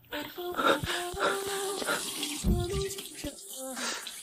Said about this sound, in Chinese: 江先生，您家是不是没关水龙头？